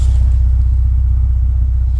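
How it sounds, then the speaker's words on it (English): A 2003 Mitsubishi Lancer OZ Rally fitted with an aftermarket Magnaflow exhaust idles with a loud, steady, deep pulsing rumble, close up and without talk. "Changed the exhaust system on the car, as you guys can hear in the back here"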